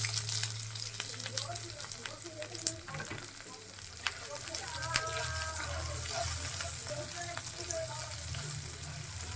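Chopped onion frying in oil with kalonji seeds for a bean bhorta, giving a steady close sizzle throughout with occasional stirring scrapes and a low hum beneath.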